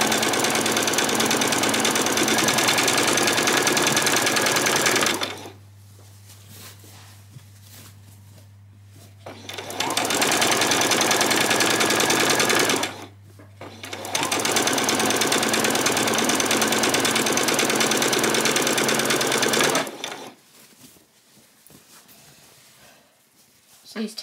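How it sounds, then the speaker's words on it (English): A sewing machine stitching quick tacking stitches on a skirt runs in loud, steady bursts of rapid whirring, with two short pauses between runs before stopping, heard up close. "These tacking stitches do go much quicker than the others."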